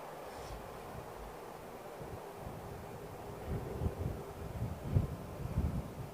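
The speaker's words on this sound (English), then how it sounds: "It is quite breezy here." Wind gusting at Heathrow Airport, a steady outdoor rush with low buffeting bursts against the microphone that grow stronger toward the end, no talking.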